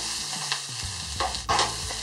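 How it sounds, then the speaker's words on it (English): Garlic and onion frying in hot oil for Thai chicken curry produce a close, loud sizzle with scraping stirs and a sharper burst of crackle partway through. "I can feel that the oil is pretty hot now, so I'm going to put in my garlic and onion."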